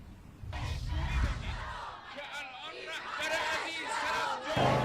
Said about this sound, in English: Many of them were chanting "Death to America," were chanting "Death to Israel."